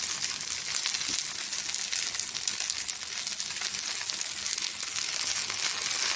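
Rava dosa batter sizzling and frying in oil on a hot pan, a steady close crackling hiss that holds evenly throughout with no talk.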